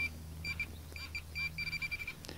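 A Minelab pinpointer metal detector at full sensitivity emits short, faint high-pitched beeps in irregular pairs and runs, over a low steady background hum outdoors.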